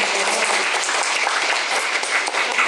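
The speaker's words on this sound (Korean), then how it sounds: "새 저자분께 다시 한번 박수 한번 부탁드립니다." A crowd applauding at a book concert, dense and steady clapping throughout, fairly loud and close, with no one speaking.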